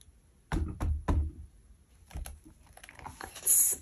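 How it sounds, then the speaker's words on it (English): Knocking on a wooden surface: a close group of three hard knocks, then a softer pair a second later. Rustling, handling noise and brief child speech sounds are also present. "You knock."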